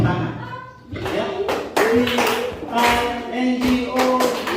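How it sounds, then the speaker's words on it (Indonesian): Rhythmic hand claps in a classroom spelling-song game of B-I-N-G-O, clapping in place of letters, mixed with children's and a teacher's voices singing and talking. "Tepuk tangan."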